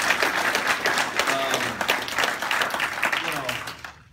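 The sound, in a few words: applause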